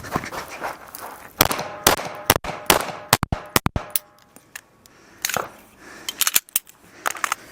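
Sharp gunshots crack out in quick bursts as the shooter runs forward, irregularly spaced with brief pauses, loud and close over faint background rustle.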